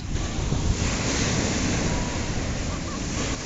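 Surf washes continuously onto the Lake Huron shoreline along a long beach, a loud, close rush of waves mixed with steady wind buffeting the microphone.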